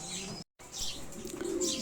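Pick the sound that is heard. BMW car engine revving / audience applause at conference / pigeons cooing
pigeons cooing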